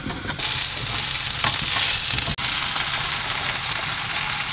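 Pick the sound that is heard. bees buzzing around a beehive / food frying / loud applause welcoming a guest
food frying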